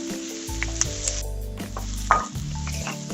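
Pine nuts and pecans browning in olive oil with onion and garlic in a pan, giving a steady sizzle and stirring that runs through, with a few light clinks, over sustained tonal background sounds.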